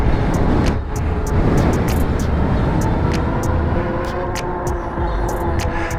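A EUYBIKE K6 Pro Max folding electric bike with 20x4-inch fat tires, 52V and 3000W dual motors, runs in dual motor mode. Steady close road and motor rumble with wind, plus a faint high whine and recurring ticks.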